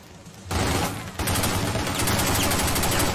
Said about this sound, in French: Je change d'arme, on va prendre la mitraillette.